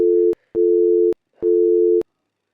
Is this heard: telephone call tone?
yes